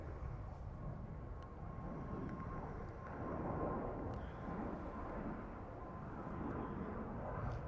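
Steady broadband roar of an ATR turboprop aircraft at Dublin Airport, a continuous distant rumble with a faint tonal hum and no talk over it.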